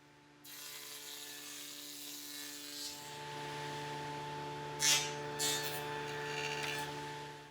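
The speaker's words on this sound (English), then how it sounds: "I'll go to the table saw with this panel and begin to cut the tenon" Table saw fitted with a dado blade cutting a tenon in a wood panel: the motor spins up and hums steadily with tonal whine, with a few louder bursts as the blade bites into the wood.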